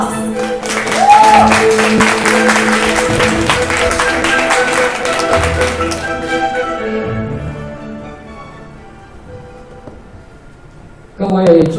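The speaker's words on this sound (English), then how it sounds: "How about another round of applause?" An audience at a Taiwan sports innovation demo day event applauds in a broad wash of clapping for several seconds, fading out under music, with a voice entering at the end.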